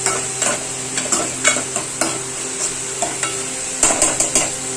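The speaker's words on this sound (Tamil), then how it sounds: "நல்லா வதங்கட்டும்." Food sautés in a pan with a constant frying sizzle as a spoon scrapes and stirs at irregular intervals, close and clear with no talking.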